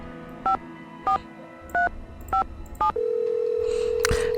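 Five evenly spaced touch-tone keypresses beep on a telephone in a Nancy Drew video game, followed by a steady ringback tone over a faint background hum.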